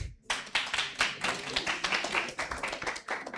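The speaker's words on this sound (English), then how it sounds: "Clap for Alpha Fam." A group claps together for a team at a bootcamp event, a sustained burst of dense, loud applause running steadily throughout.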